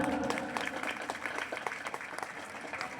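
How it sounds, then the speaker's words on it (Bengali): Audience clapping at a gathering of young students, moderately loud and a little uneven, with individual claps standing out from a continuous wash of applause. "ভাইয়ের জন্য এটা করতালি হবে না"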